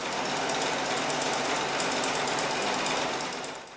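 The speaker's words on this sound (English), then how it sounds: "That sound isn't just a noise, but reverberation from the pedaling of a machine that joins clothing materials" A pedal-driven sewing machine in Lagos runs steadily at high speed, a dense continuous mechanical rattle, close and loud, easing off slightly at the end.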